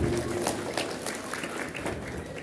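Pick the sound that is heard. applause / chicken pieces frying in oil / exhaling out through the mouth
applause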